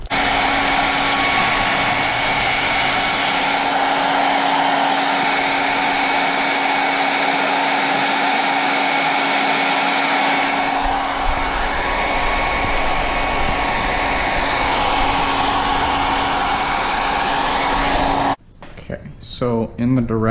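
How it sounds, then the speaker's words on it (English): A hair dryer used as a heat gun on a car spoiler extension blows steadily at close range for about eighteen seconds, a constant whooshing hum, then cuts off abruptly, leaving a brief moment of quieter room sound. "I'm just going to use a heat gun, aka a hair dryer."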